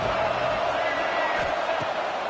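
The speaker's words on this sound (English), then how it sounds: "this crowd bearing down and getting loud on 3rd down" A football stadium crowd at a college game roars loudly on third down, a dense, steady wall of noise with no break.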